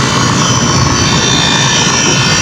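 A freshly repaired compressor running and drawing about 31 amps: a loud, constant, broadband roar, close by and unbroken, with no speech.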